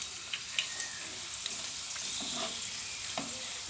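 Pulla pori frying in a pan while being stirred, a steady soft sizzle with scattered light scraping clicks, quiet and close with no talking.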